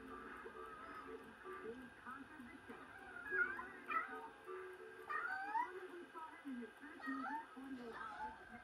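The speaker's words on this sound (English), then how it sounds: "the kitten, Tigger, has decided to join us in this video" A kitten meows repeatedly in short, rising and falling cries during the repair of an SL-5000 video machine, close by, over a steady electronic hum and faint room noise.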